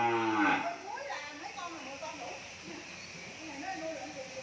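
Cattle on a beef cattle farm give a loud, close moo at the start, followed by softer lowing calls under continuous nearby talk.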